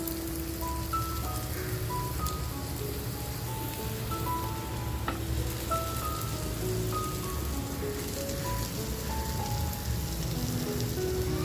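Steady, close sizzling of chicken rolls shallow frying in butter over a low flame, a dense crackle with scattered pops running continuously without pause.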